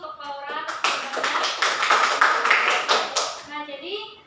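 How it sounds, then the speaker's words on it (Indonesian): Students in a classroom clap for a classmate, a short, brisk round of many hands that swells and fades within a few seconds, with voices speaking briefly before and after. "beri tepuk tangan dulu untuk Laura"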